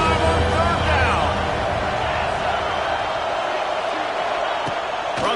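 A football stadium crowd of Ohio State Buckeye fans roars steadily on third down, a dense continuous wash of cheering with a voice over it.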